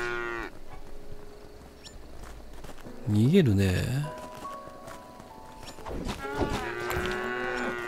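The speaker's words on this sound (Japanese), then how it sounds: "牛もまあまあ湧いてくるっちゃ湧いてくるよね" Cow mooing in the video game Craftopia, several long low calls rising and falling mid-clip and again near the end, loud and close, with someone talking over parts of it.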